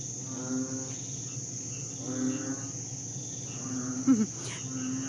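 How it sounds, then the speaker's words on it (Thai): Frogs and toads croak near a garden ditch by a country house after rain, a few rasping croaks spaced apart over a steady, high insect drone. "ได้ยินเสียงอะไรไหมฮะมีเสียงกบเสียงอึ่งร้องด้วยนะคะ"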